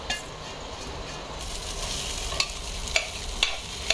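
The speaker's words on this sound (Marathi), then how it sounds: "आता हा मी तांदूळ जो धुवून ठेवलाय तो याच्यामध्ये घालून तोही जरा थोडा परतून घ्यायचा" Washed rice stirred and sautéed with masala in a pan for khichdi, a steady close sizzle with a few sharp clinks of a spoon against the pot near the end.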